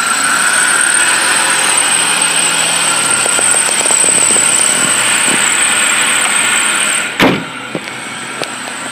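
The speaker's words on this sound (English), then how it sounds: "This vehicle does start." A 2005 Chevrolet Impala Base sits running with a loud, steady engine drone close by, then a sharp thump near the end, likely a door or latch, followed by a few faint clicks.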